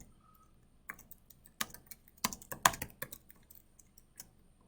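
Someone types a message on a computer keyboard, a sparse run of crisp key clicks in irregular bursts, close and fairly quiet against near silence, with no talking.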